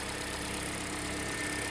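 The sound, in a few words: car engine idling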